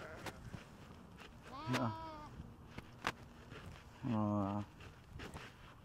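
Two distinct goat bleats, one wavering and one louder and sustained, over quiet background with faint shuffling and a sharp click, near Makkah.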